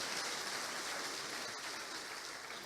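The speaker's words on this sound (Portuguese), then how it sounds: "Vamos aplaudir a ele?" A church congregation applauds during a worship service, a steady dense wash of many hands clapping at once that fills the room evenly without a break.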